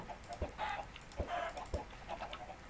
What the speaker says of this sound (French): Il y a vraiment beaucoup de poules.